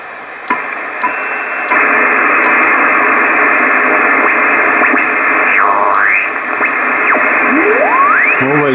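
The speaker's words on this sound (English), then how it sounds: "All these noises you hear on 80 are coming from other equipment." Loud, continuous radio interference fills the 80 m amateur band, a dense hissing roar from nearby solar panels and a broadband modem, with sweeping whistling tones gliding up and down near the end.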